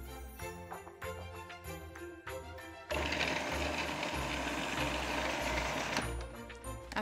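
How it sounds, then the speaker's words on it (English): A food processor purees tender cooked easy peeler oranges, starting with loose clattering and chopping before settling into a loud, steady whirring blend that runs for several seconds, then eases off near the end. "I'm going to pop those into a food processor to make a puree."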